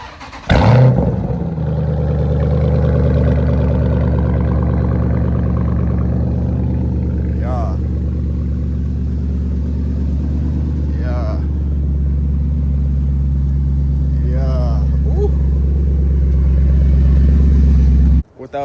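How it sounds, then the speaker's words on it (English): A Jeep SRT V8 cold-starts with a sharp burst, then settles into a loud, deep, steady idle rumble that runs nearly twenty seconds before cutting off abruptly, with a few faint chirps and no talking over it. "I'm gonna give y'all a cold start so y'all can like hear this boy."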